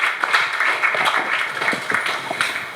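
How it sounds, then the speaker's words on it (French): A seated audience at a panel talk on diplomacy applauds, a moderate, continuous patter of clapping for nearly three seconds, even and unbroken, with no talk over it. "Est-ce qu'on peut applaudir?"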